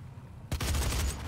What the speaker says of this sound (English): eviscerate opponents with a barrage of missiles